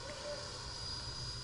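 An E-Flite Viper 90mm electric ducted-fan RC jet flies past with its landing gear down, giving a steady, faint whooshing whine heard from a distance outdoors.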